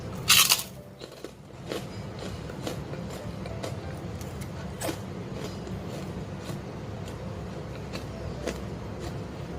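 Crunchy homemade pumpkin crackers are bitten with a sharp, loud crack near the start, followed by steady close chewing and faint crackling over low room noise.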